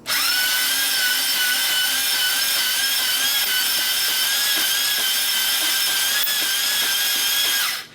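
Cylinder hone grinding under load inside a Chevy 5.7L LS engine block, a steady, loud, high-pitched drill whine with tonal harmonics that holds evenly for the whole stretch.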